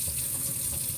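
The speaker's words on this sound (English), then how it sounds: "So this one I can just rinse out, and I'm squeezing it gently." Running water from a sink tap pours steadily over a dirty paint sponge being rinsed and gently squeezed during painting studio clean-up, a continuous close hiss and splash with no voices.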